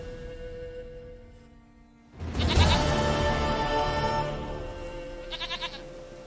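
A goat in The Witcher 3: Wild Hunt lets out one loud, drawn-out bleat after a quiet stretch, then a short quavering bleat follows near the end, set against faint in-game ambience.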